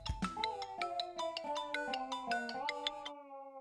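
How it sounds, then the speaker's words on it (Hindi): Mobile phone ringtone playing a bright repeating chime melody, clear and close, cycling through several notes before stopping abruptly. "देख, फोन आ गया।"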